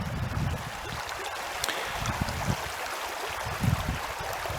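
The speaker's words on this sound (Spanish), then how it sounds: "El panorama aquí pues es el de un típico arroyo de montaña en la Sierra Madre Oriental." A mountain stream in the Sierra Madre Oriental, Nuevo León, rushes steadily over rocks as a continuous broadband wash of water, close and even, with no talk.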